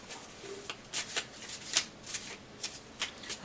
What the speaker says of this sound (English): I'm done shuffling.